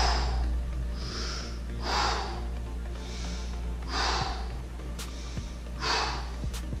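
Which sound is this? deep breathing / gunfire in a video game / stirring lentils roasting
deep breathing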